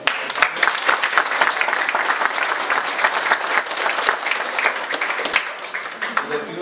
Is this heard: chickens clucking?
no